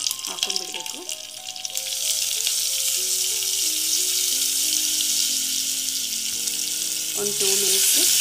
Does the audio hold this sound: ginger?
yes